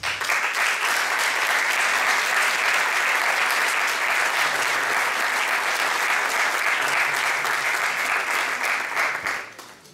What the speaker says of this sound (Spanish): darles desde aquí un aplauso